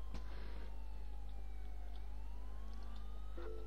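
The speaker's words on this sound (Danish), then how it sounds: "Sirener på." A police car siren in GTA IV wails and sweeps up and down at moderate distance over a constant low engine drone, with no speech.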